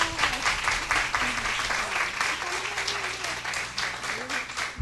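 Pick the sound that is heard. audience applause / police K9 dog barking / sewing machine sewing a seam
audience applause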